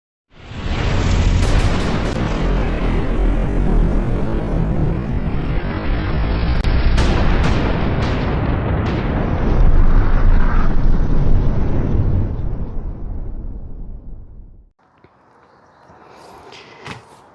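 An AR-10 rifle fitted with an adjustable gas block, new spring and new buffer, fired outdoors in a loud sustained burst of rapid, close reports for about fifteen seconds, then quieter rustling.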